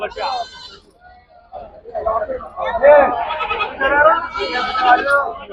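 Goats bleat several times in wavering cries amid chatter at the Gudur goat market, the calls growing louder and more frequent toward the end.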